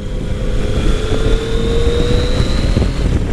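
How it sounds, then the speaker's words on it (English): Yamaha FJ09 inline-triple motorcycle engine at Laconia Bike Week pulls hard after a downshift, a steady loud drone with rising tone under heavy wind rush, no talking. "I just downshifted gave it a kick there yeah it's got it's got some giddy up"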